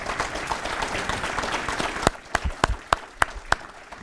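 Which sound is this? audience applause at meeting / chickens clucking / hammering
audience applause at meeting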